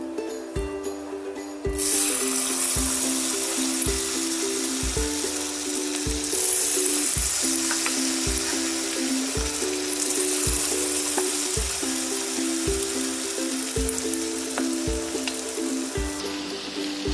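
Mixed vegetable pakoras deep frying in hot oil, a steady loud sizzle that runs throughout with no one speaking.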